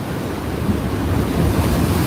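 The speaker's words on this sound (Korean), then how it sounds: "저도 이제 파도 맞어요, 방금." Ocean waves surge and crash against a breakwater at a spot used for fishing, a steady loud roar of surf with wind buffeting the microphone, building slightly toward the end, no voices.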